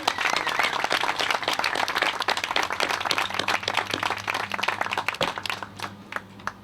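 An audience at a Foothill Gold Line press conference applauds, a dense, fairly close stretch of clapping that holds steady and then thins out near the end.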